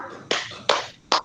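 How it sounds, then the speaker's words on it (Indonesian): A group claps together in an ice-breaker clapping game, with three sharp, crisp claps spaced roughly evenly and close to the listener, each with a short trailing reverberation and no talking in between. "Tepuk ganda."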